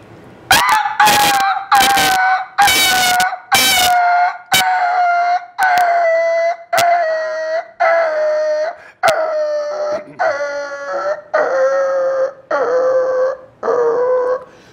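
A mimicry artist's voice imitates a dog yelping and howling after being hit by a stone, a series of loud, close, drawn-out wavering cries, each one falling in pitch, with short gaps between them.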